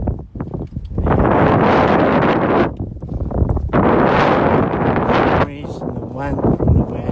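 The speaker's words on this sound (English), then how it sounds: "This is proper west wind now" Strong west wind buffets a microphone on open downland in East Sussex, coming in loud roaring gusts with brief lulls between them and faint voices under the rush.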